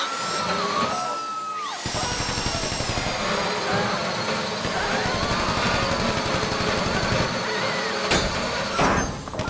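A steady, loud mechanical drilling whine from a drill in the video game GTA 5 runs continuously with a grinding rattle, while voices speak over it intermittently.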